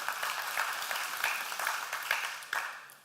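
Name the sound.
church congregation applause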